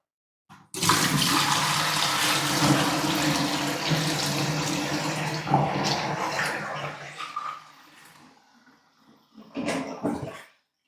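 Water from a tap runs steadily into a big jug for several seconds, a loud continuous splashing rush that fades near the end before a brief final burst of flow.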